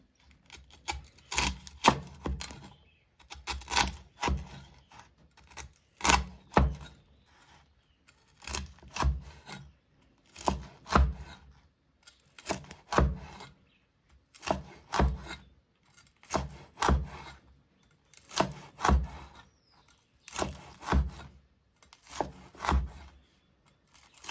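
A knife cuts through crispy fried pork belly in repeated bursts of crunchy, rasping strokes, about a dozen groups with short pauses between them, close and clear with no talking.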